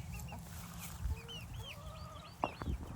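Hens kept for egg production cluck steadily on a small farm, with scattered close clucks and squawks and bright bird chirps over a low, continuous farmyard background.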